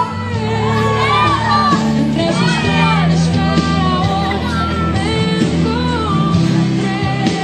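Wedding reception crowd shouting and yelling together, a dense continuous roar of many voices with rising whoops, loud and steady throughout.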